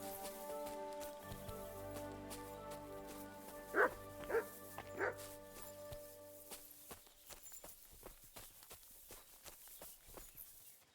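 A dog in Kingdom Come: Deliverance 2 barks three or four times in quick succession, fairly close and loud, over an ambient musical bed, with footsteps continuing afterward.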